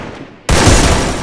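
Sudden burst of heavy gunfire erupts after a brief quiet moment in a battle royale video game, loud and dense with rapid overlapping shots filling the rest of the moment.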